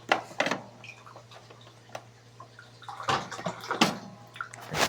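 Water runs from a tap into a glass for toothbrushing in short, close splashing bursts with quiet gaps between them, and there is no talking.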